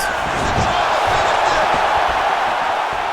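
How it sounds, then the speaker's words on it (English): Steady arena crowd roar from the EA Sports UFC 5 video game on PS5, a lightweight bout between two fighters, loud and continuous throughout with a dense, unbroken swell and no distinct peaks. "Crowd may be jumping."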